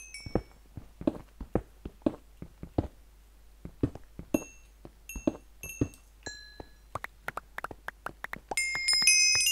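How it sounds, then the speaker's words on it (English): In the Minecraft video game, a string of sharp taps and clicks is followed by bright chime-like ringing tones that grow denser and louder toward the end. "It's like ringing chimes."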